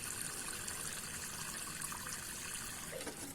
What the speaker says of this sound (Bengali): এই জলটা দেখুন নিচে দিয়ে কালো হয়ে বেরিয়ে যাচ্ছে